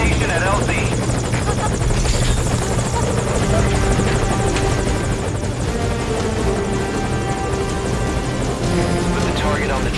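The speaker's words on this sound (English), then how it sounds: "Put the target on the chopper." A helicopter in the stealth video game Metal Gear Solid V: Ground Zeroes thunders close and loud, its steady rotor chop and engine whine filling the whole stretch.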